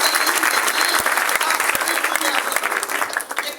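An audience at a talk in Ranchi breaks into loud, sustained clapping, a dense, steady applause with a few sharp individual claps standing out, tapering slightly toward the end.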